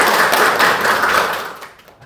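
A dense burst of clapping from a class audience at a university teaching session, rewarding a student named Amanda. It is loud and steady at first, then tapers off over the last half second.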